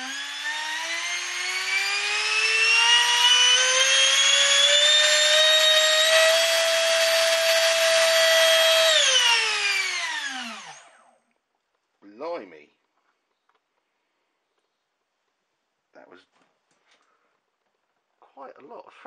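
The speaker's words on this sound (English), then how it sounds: "let's give this a throttle up. I hope this isn't too much thrust, and I hope the test rig here is gonna take it." A Hobbyking 70mm electric ducted fan on a test rig spools up into a loud, rising whine that holds for several seconds and then winds down. A few brief faint sounds follow in near silence.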